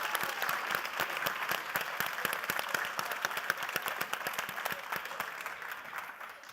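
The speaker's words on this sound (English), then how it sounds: "A big round of applause." Audience applause at a university science contest forum, steady and fairly dense clapping from a moderate-sized crowd with distinct individual claps, continuing evenly throughout at a moderate distance.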